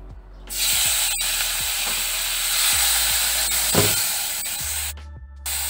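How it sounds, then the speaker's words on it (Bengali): Shrimp fry in a little hot oil, giving a loud, bright, hissing sizzle that holds steady for several seconds before cutting off, close up. "চিংড়ি মাছগুলো ভেজে নেব।"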